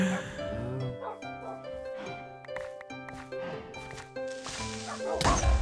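Tamed wolves in Minecraft give sharp barks and thin whimpers, repeated in short bursts over sustained tonal background sounds, ending in a louder noisy crash.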